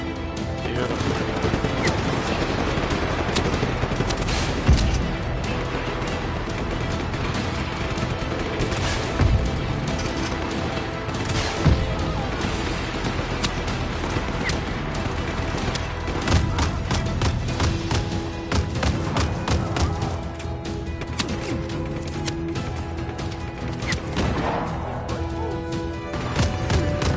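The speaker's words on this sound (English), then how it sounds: "I love the shotgun, man." Shotgun blasts in the open-world game Just Cause 3 ring out repeatedly amid a chaotic firefight, sharp booming shots at irregular intervals over a continuous bed of explosions, crashes and background game noise.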